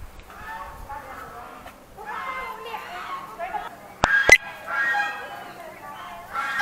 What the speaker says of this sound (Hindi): बहुत सारे पक्षी हैं।